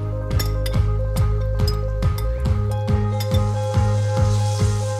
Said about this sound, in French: Dans une poêle chaude, je verse un filet d'huile de sésame. J'ajoute les mangues.